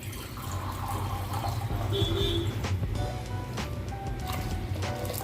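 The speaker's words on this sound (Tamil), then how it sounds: "இப்போ வந்து நம்ம இன்னும் ஒரு அரை டம்ளர் தண்ணி ஊற்றிக்கிறேன்" Half a tumbler of water poured into a pot of red radish dhal sambar, a soft gurgling splash and trickle lasting a few seconds, close but faint amid kitchen background and brief chatter.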